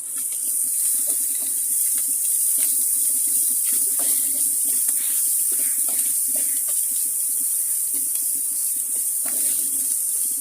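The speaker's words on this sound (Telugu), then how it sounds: "ఇప్పుడు మనం వన్ టేబుల్ స్పూన్ అల్లం వెల్లుల్లి పేస్ట్ వేసి బాగా వేయించుకోవాలి" Ginger garlic paste frying in a pan for dhaba-style paneer curry gives a steady, loud hiss and crackle that holds unbroken throughout, with small pops scattered through it.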